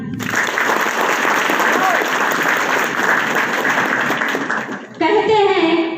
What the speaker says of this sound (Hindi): सम्मान के लिए ताली